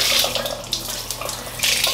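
Tap water runs steadily while hair removal cream is rinsed off legs with body wash, a close, continuous splashing hiss with a few brief surges and no voices.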